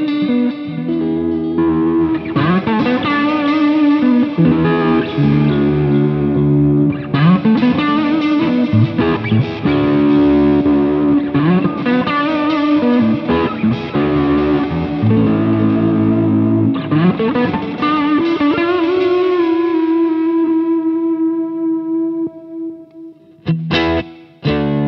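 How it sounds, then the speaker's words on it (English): Electric guitar chords through a Cub Super 12 amp, drenched in wobbling vibrato, washy reverb and echoing delay, played loud and steady, ending with a few short plucked notes. "still sound like vibrato on the reverb and the delay"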